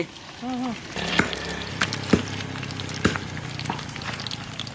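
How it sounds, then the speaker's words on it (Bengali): Steady sizzling of a fish head frying in oil, with a few sharp clinks of a utensil against the pan and a brief voice near the start. "মাছের মাথা ডালে দিয়ে দিলাম ভাজা হয়ে গেছে"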